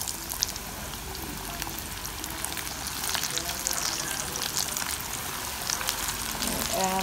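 Pork ribs fry in hot oil, a loud continuous sizzle with crackling pops throughout, fairly close, with no clear talk.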